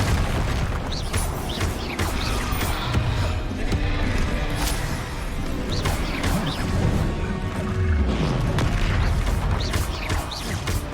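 Repeated fiery spell blasts from the Confringo curse in Hogwarts Legacy, a dense run of loud booms and crashes during a chaotic fight with a troll, game sounds layered continuously with no clear speech.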